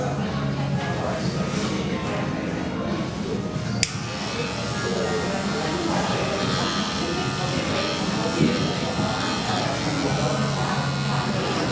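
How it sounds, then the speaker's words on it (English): A large electric hair clipper buzzing steadily close by as it cuts very long hair, a continuous motor drone with small shifts in tone, while someone talks over it. "So this big clipper I use just to set my length."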